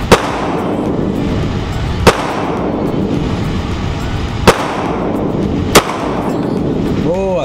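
Four sharp pistol shots from a Taurus G3 T.O.R.O at an outdoor shooting range, spaced a couple of seconds apart and loud against steady background noise and murmured voices.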